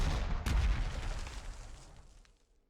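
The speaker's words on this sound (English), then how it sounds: "But I'm going to use my artillery." Artillery fire in the WWII strategy game Panzer Corps 2 during the Operation Barbarossa campaign: a single heavy boom with a sharp crack near the start, then a long rumbling decay that fades out.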